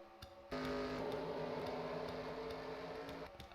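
Race trucks in a video game race roll off together, a faint, steady engine drone with a humming tonal layer that swells suddenly and holds for a few seconds before easing slightly.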